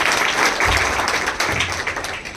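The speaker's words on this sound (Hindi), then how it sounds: "उसके लिए भी तालियां बजाओ" A crowd at a political rally in Mandla applauds, giving dense, continuous clapping that stays loud and steady for the whole stretch, with faint voices underneath.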